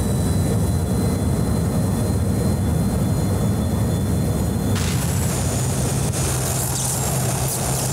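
A fixed-wing airplane flies in the video game GTA: The Ballad of Gay Tony, a steady loud jet-engine roar with low rumble that holds throughout, brightening with a hiss partway through.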